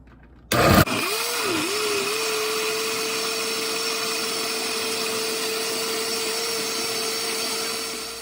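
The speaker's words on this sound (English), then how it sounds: "you're gonna blend this and leave this blending for about 5 to 10 minutes" A kitchen blender runs steadily, puréeing a chili sauce for slow-cooked beef birria: a loud, continuous motor whine that starts abruptly with a short burst, dips once, then holds an even pitch for the rest of the clip.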